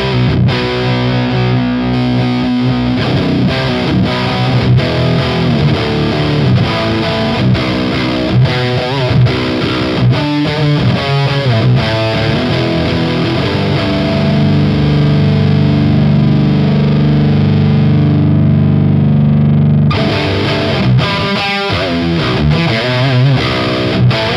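Distorted electric guitar through a Hughes & Kettner Tubemeister 18 tube amp with lead boost on, playing sustained, crunchy chords and a few single-note runs, loud and thick throughout with no voices.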